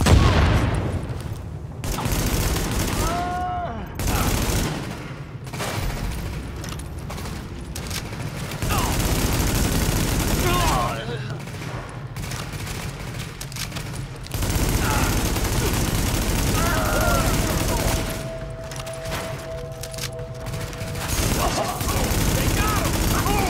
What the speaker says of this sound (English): Party's taking heavy fire from the roof.